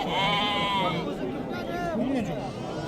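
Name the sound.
lambs bleating at a sheep market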